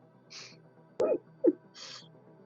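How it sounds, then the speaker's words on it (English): Owl hoots sound twice at mid-distance in a quiet natural setting, each a short low call, with faint higher bird or insect chirps before and after. "Birds."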